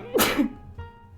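A single sharp, loud sneeze bursts out close to the microphone, followed by a brief breathy tail and a faint sound afterward.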